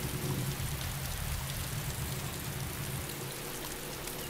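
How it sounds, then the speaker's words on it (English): Heavy rain in the video game DayZ pours down steadily, a dense broadband hiss of drops with a low rumble beneath, loud and continuous with no voices. "the rain is really loud"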